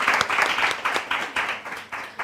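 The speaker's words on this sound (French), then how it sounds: "je vais vous demander d'applaudir pour ces personnes" Audience applause at an event, a dense burst of many hands clapping in uneven surges that swell and fade over a couple of seconds, fairly close and loud, with no talking over it.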